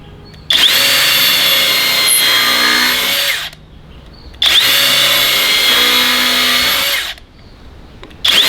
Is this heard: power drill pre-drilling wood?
yes